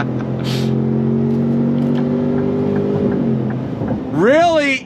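A 2026 Ford Expedition Stealth Edition full-size SUV pulls hard under throttle, its engine note holding steady and loud for several seconds before a rising, sweeping surge of revs near the end.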